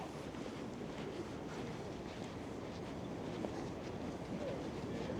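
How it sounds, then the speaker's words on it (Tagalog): Steady, strong wind roars and buffets the microphone over open water, a constant rushing noise without any break. "Apakalakas ng hangin."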